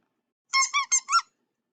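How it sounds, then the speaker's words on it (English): Two rubber ball dog toys squeak four times in quick succession, short bright bursts about 0.2 s apart, close and clear against silence. "They both squeak."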